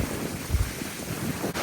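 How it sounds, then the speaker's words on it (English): Steady wind buffeting the microphone, a low rumbling roar with gusty bursts and no voices. "It's damn windy down here."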